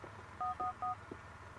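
Cell phone dialing tones from the phonebook menu in GTA IV: The Lost and Damned, three short clear beeps in quick succession over a low game background hum.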